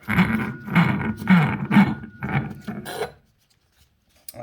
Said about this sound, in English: the outer part of the hub, same thing, spin it on